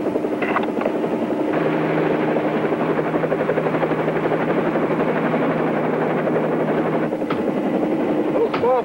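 A helicopter's rotor thrums loud and steady throughout, its engine whine holding constant while brief clanks break in near the start and end.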